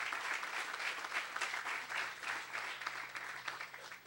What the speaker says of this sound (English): let's give Rob a round of applause for even getting this off the bus